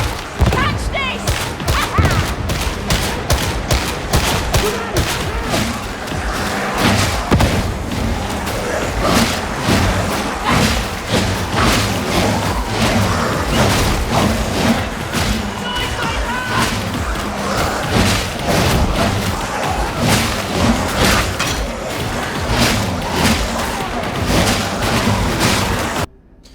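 Dense, near-continuous gunfire and grenade blasts from Warhammer 40,000: Darktide combat, rapid loud bursts and thuds overlapping without pause for nearly half a minute, with voices calling out amid the din.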